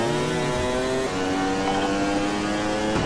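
A motorcycle engine hums steadily up close, its pitch shifting slightly as it changes gear, loud and continuous without any talking.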